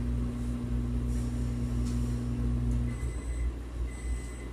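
Faint, steady high beeps from a kitchen timer for green beans in the latter part, over a low droning background hum.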